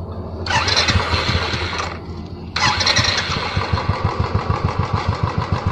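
A Royal Enfield Bullet 350 motorcycle engine cranks and catches, dips briefly, then fires again and settles into a loud, close, steady thumping idle.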